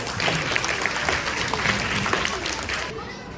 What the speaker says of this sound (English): Round of applause for a simple machine.